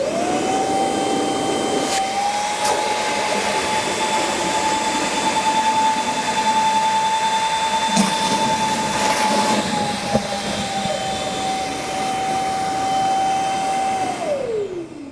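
A Milwaukee M18 Fuel dual-battery wet/dry vacuum runs with a large, long hose, giving a loud, steady whining roar that holds for several seconds and then winds down at the end.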